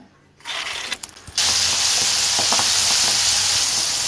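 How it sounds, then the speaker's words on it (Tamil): Soya chunks dropped into hot oil for deep frying over medium to high flame, a sudden loud continuous sizzle and bubbling hiss that swells after a brief rattle and holds steady, close up. "இதையும் மீடியம் டு ஹை ஃப்ளேமில் வச்சு நல்லா பொறிச்சு எடுத்துப்போம்"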